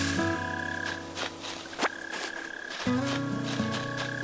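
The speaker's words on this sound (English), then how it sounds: "Hear a frog somewhere." Croaking frog in a video game, a few short croaks set among steady game tones and musical notes, with one sharp click partway through; no voices.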